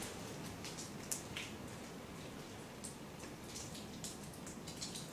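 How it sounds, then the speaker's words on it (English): Raindrops patter steadily and faintly outdoors during a night-time paranormal investigation, a constant soft hiss broken by small scattered taps, with no talking. "For the audio, there's a lot of raindrops, so be wary of that on the playback."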